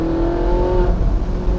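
A Ferrari 458 Spider engine roars loud and close in a steady, strained rev, with no voices over it.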